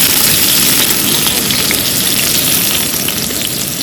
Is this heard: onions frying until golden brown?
yes